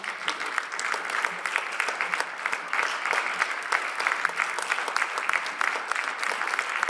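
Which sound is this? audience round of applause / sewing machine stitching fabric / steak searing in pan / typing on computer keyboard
audience round of applause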